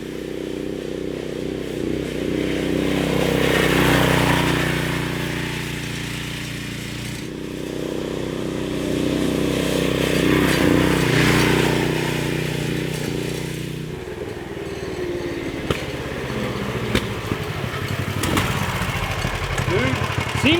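A 420cc Murray go-kart engine drones steadily throughout, rising and falling in pitch as it drives, with a brief bump of clatter near the end.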